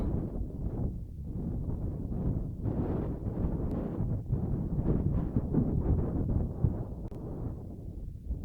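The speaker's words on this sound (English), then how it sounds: "It's a bit windy out here today." Wind buffets the microphone in uneven low gusts at an outdoor rugby match, a continuous rumbling roar with no voices.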